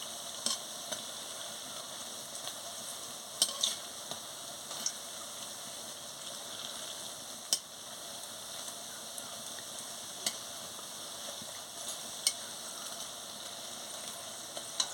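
Coriander leaf fritters frying in hot oil give off a steady, soft sizzle the whole way through, with a few sharper ticks and pops rising now and then. No one speaks.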